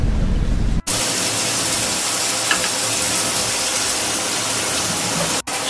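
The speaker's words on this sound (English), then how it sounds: "Shower time, and it is literally fogging up already because I have the water steaming" Hot shower water streaming steadily in a steamy bathroom, a loud, continuous hiss that cuts out briefly near the start and again near the end.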